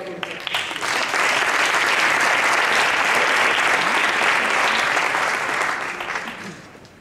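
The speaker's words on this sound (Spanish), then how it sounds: "Un aplauso también para Roberto García Gómez." Audience applause at a youth awards ceremony in Spain, swelling quickly to loud sustained clapping from a large crowd, holding steady, then tapering off over the last second.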